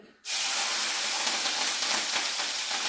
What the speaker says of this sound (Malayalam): പച്ചമുളക് അരിഞ്ഞു വെച്ചിട്ടുണ്ട് അതും കൂടെ നമുക്ക് വറുത്തെടുക്കാം ഇപ്പം പൊട്ടിത്തെറിക്കും